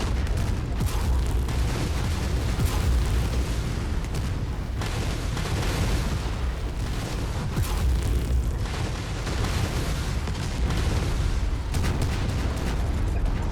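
Mech combat in the MechWarrior 5 video game brings dense, continuous rumbling explosions and booming weapon blasts as an enemy mech is destroyed, loud throughout with no talk.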